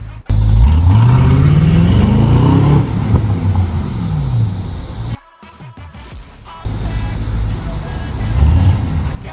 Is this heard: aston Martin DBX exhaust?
yes